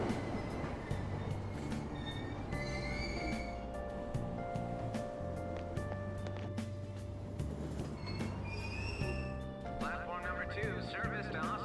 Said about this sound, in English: Let me ride the train.